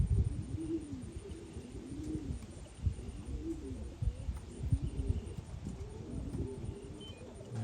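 Close, soft, repeated cooing of a racing pigeon cock in a loft, rising-and-falling coos in a regular rhythm over faint rustling background.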